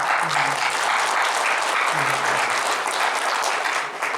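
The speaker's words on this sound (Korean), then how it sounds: "박수로 환영합니다." Sustained audience applause fills a hall during a Yeonbaek County residents' association annual general meeting, steady and dense from start to finish, with a faint voice briefly audible underneath.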